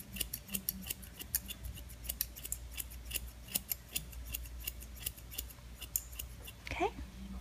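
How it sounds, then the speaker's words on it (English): Scissors point-cut hair up close while shaping a lob or bob haircut, a dense run of quick, crisp snips with a few louder clips near the end. "I'm going to soft that with my point cutting."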